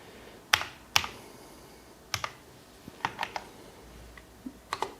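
Someone types on a Cooler Master SK621 portable keyboard, producing sparse, crisp individual key clicks and short bursts at close range over a quiet background.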